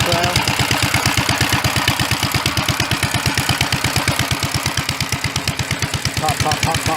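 Rapid, regular exhaust pops from a Gravely tractor fitted with a custom exhaust run nonstop up close, a loud steady chugging beat.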